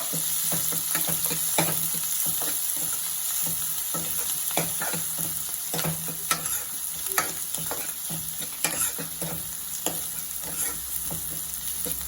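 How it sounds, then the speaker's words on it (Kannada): Crushed garlic and chopped green chillies fry in a pan for Andhra-style dal, a steady close sizzle broken by frequent scraping stirs and light clinks throughout. "ಇದಕ್ಕೆ ನಾನು ಜಜ್ಜಿಟ್ಕೊಂಡಿರೋ ಬೆಳ್ಳುಳ್ಳಿ ಮತ್ತು ಜಜ್ ಕಟ್ ಮಾಡ್ಕೊಂಡಿರೋ ಹಸಿಮೆಣ್ಸಿನ್ಕಾಯಿ ಹಾಕ್ಕೊಳ್ತಾ ಇದ್ದೀನಿ ಇದನ್ನು ಫ್ರೈ ಮಾಡ್ಕೊಳ್ಳಿ"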